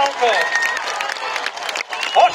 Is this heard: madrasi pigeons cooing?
no